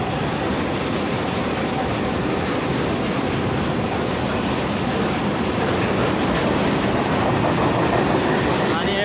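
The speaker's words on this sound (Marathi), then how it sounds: "आणि हे मालगाडी जात आहे, भाऊ फास्ट जात आहे." A freight train passes fast near Akola railway station, its wagons giving a loud, steady rumble and rhythmic wheel clatter throughout, close to the listener.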